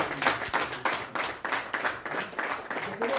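Shepherds at a meeting clap and applaud, a dense, close patter of many hands with uneven swells in rhythm, continuing without pause and with no voices on top.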